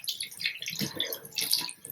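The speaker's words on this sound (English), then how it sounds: "let's splash some water and see what this looks like" Water splashes onto a face at a sink in irregular wet bursts, close and fairly loud, with no talking.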